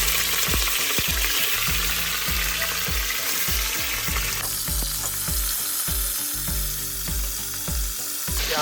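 Meat frying in hot oil in a pot on a stove, a loud, steady sizzle that runs throughout with repeated stirring clatter and no talk.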